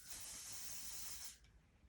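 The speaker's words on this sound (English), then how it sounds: "So I just spray it on here." A short, close hiss of an aerosol spray applied to eyebrows lasts just over a second, then cuts off, leaving quiet room noise.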